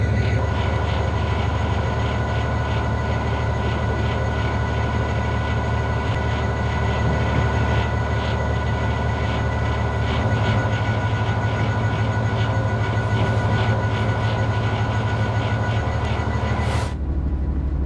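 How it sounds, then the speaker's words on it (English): An HST train in Great Western Blue livery rumbles past in the Train Sim World 6 game, a continuous loud droning diesel roar that holds steady before cutting off near the end. "There's a HST in Great Western Blue."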